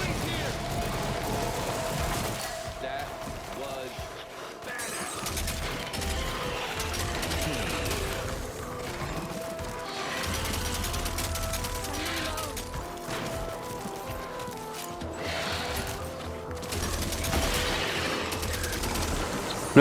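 Video game combat played on PSVR2 with a PS5 Pro, bursts of gunfire, explosions and mechanical clatter going off in irregular clusters, with a voice talking over parts of it.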